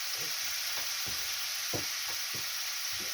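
Steady, close sizzling of food frying in a pan, a constant hiss with soft scraping stirs every half second or so, no voices.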